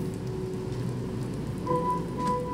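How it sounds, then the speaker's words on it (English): Steady rainfall in the Minecraft Crafting Dead zombie game, a dense even hiss of drops on surfaces running throughout, with faint tonal game sounds appearing partway in and no talk. "Does it never stop raining here?"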